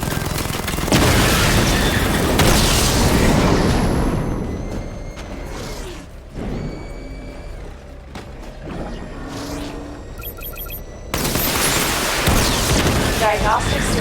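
The Batmobile's missile barrage in Batman: Arkham Knight sets off loud, dense booming blasts in a heavy opening burst, quieter mechanical whirs, then another roaring volley near the end, with a voice speaking at times.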